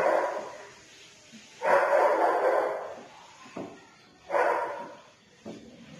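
A dog barks nearby in two separate bursts a couple of seconds apart, each a short cluster of gruff woofs, with a quieter yelp between them and a soft background hum.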